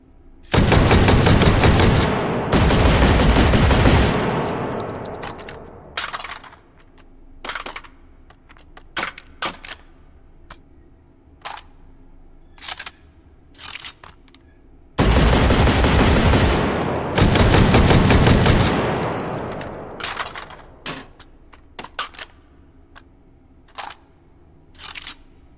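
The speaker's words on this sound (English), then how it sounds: "both these guns have the same amount of shells, so I can fire them at the same time and pretty much have the same fire rate" Two AA-24 automatic shotguns fire together in the H3VR virtual reality game, loud rapid bursts of blasts lasting a few seconds each, followed by scattered single shots and mechanical clicks, with two main volleys overall.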